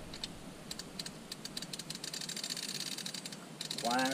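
Ravin R20 crossbow cocking mechanism being cranked, a quiet string of small mechanical clicks and ticks running steadily through the moment, faint and close, ending with a brief higher-pitched squeak.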